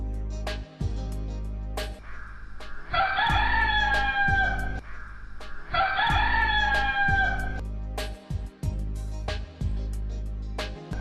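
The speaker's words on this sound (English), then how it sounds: "And the hen cackled." A hen cackles in two drawn-out bursts of squawking calls, a few seconds apart, loud and close over a steady musical background.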